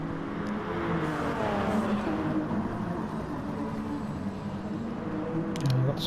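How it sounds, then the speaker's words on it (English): A race car engine in a sim racing event, short shifting, a steady droning engine note with stepped pitch changes as gears change, close and continuous, with a voice faintly underneath. "Lots of short shifting going on there"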